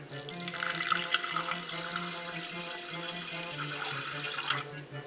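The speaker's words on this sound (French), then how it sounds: "on met de l'eau de manière à recouvrir le riz" Water is poured from a tap over rice and olive oil in a pot, a continuous close rush of flowing water with a faintly rising tone as the pot fills, with no talk.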